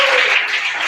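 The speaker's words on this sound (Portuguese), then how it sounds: "E mais palmas para Jesus." A church congregation at a Wednesday worship service applauds in a brief, dense burst of clapping that fills the room, loud and steady.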